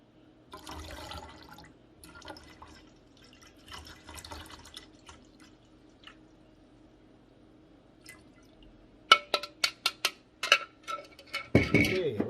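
Liquid lye pours and splashes into a hot process pine tar soap mixture, faint trickling at first, then a quick series of sharp drips and splashes near the end.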